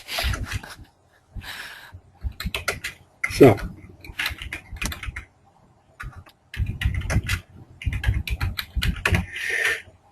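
Computer keyboard typing during a distributed-education group call, bursts of quick key clicks starting and stopping across the span, near and moderately loud, with people talking in between.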